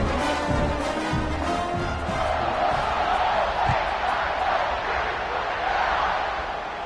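A football stadium crowd in the Madden video game, in a college football setting, keeps up a steady, continuous buzzing roar throughout, loud and unbroken, with a faint murmur of voices mixed in.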